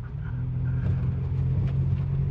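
Off-road vehicle driving fast along a smoother section of dirt trail, a steady loud engine drone with low rumble and no talk.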